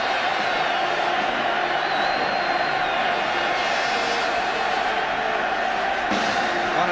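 A capacity football crowd at an England v Argentina friendly in 1980 gives off a broad, steady roar with scattered shouts and whistles, loud and continuous throughout, with no clear individual voice.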